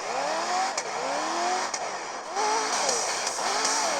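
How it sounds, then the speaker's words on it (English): Racing video game car engine revving through Nintendo Switch OLED speakers: repeated rising and falling revs in several swells with brief gear-shift dips, fairly quiet and slightly tinny, continuous throughout. "that revving just sounds louder on the Switch"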